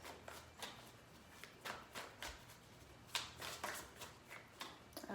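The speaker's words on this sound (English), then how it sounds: "3 shuffles." Tarot cards being shuffled by hand, three or so bursts of quick riffling and tapping at close range, quiet and crisp with short pauses between.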